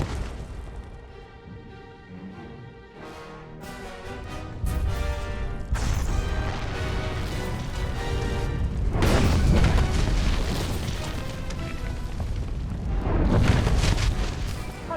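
Explosions rumble and crash in the Star Wars: The Old Republic video game, with repeated heavy booms and debris bursts building in loudness over a long, dense stretch of sound.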